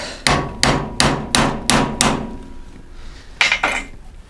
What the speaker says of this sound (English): Different hammer.